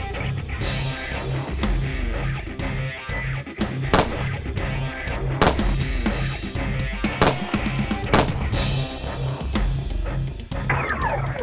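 Pistol shots ring out at a Thai military shooting match, each loud sharp crack separated by irregular pauses amid continuous background noise.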